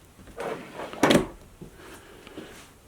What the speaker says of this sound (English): I do want to point out the metal ball bearing drawer guides